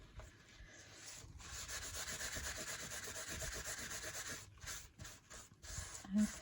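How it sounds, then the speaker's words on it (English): A paper pocket being burnished in a craft session, a continuous close rubbing and scraping with rhythmic strokes that break into short separate swipes near the end, with no talk. "I'm going to burnish that again because I've clearly missed the end of the pocket"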